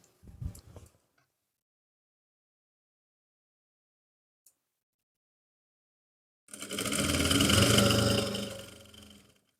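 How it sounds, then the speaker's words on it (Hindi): A sewing machine stitches along the folded edge of trouser fabric in one continuous run of about three seconds, a dense, even whir that swells and fades, after a short burst of handling noise and a long silence. "इसकी किनारे पे सिलाई लगाऊंगी"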